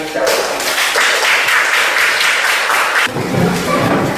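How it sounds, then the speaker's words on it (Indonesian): A school class claps continuously for a few seconds, a dense patter of applause that shifts slightly near the end as voices rise underneath. "silakan diberi tepuk tangan dari kelompok"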